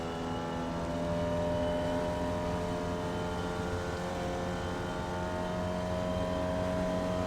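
A Formula Vee race car in iRacing at Oulton Park International drones steadily with a loud, continuous engine note and barely changing pitch as it comes back on the throttle.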